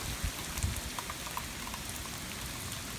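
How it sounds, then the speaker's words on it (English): Rain falling outdoors during Hurricane Matthew in Florida, a soft, steady patter of drops with a few distinct nearby plinks, fairly faint and continuous, with no voices. "It's raining."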